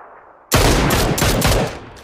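Loud, rapid gunfire in a squad match of the video game PUBG Lite, starting abruptly and continuing as a dense volley of shots for over a second before easing off.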